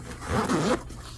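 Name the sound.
unzipping a zipper pocket on a golf cart bag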